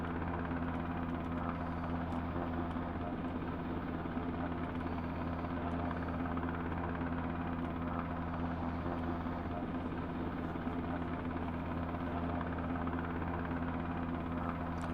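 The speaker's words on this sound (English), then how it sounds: "I don't understand what you use this helicopter for." A video game helicopter's rotor and engine drone as a steady, continuous hum, low and unbroken for the whole stretch at moderate volume.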